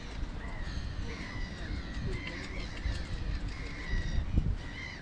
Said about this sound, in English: Hear the seagulls giving it some as well.